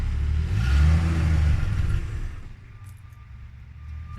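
A carbureted engine in a vehicle called Stitch revs up loudly under throttle, holds a strained drone for a second or so, then sags and bogs down into a weak, lower idle.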